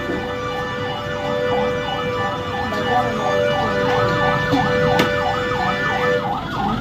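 An ambulance siren wails in a steady repeating up-and-down cycle on a street, clear and sustained over traffic noise, with faint voices nearby.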